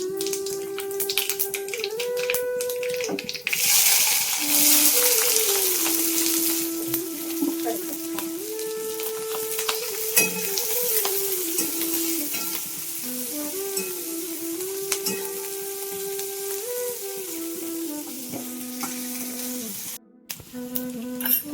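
Potatoes and other ingredients fry in heated oil in a home kitchen, with a steady broadband sizzle that swells louder after a few seconds and continues throughout, alongside a sustained tonal hum and faint clinks.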